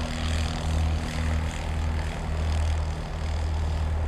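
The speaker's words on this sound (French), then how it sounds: "on va le voir décoller, c'est juste" A light biplane's propeller engine drones steadily and fairly loud at an airfield near Soissons during takeoff. A continuous low hum and rumble carries throughout with no voices.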